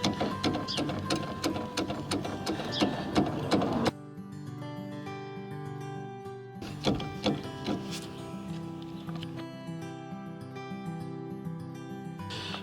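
An Iveco van's handbrake lever is worked up and down, giving a close run of rapid clicking ratchet sounds with a stiff mechanical scrape, then a steadier metallic clatter after a brief pause.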